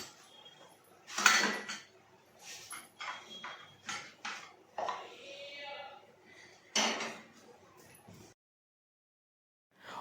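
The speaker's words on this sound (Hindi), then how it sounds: "अभी बर्तन वगैरह साफ़ कर लूँगी पहले अपने" Dishes, pots and utensils being washed in a home kitchen, with scattered clinks, scrapes and clattering bursts at uneven intervals, fairly close, then silence near the end.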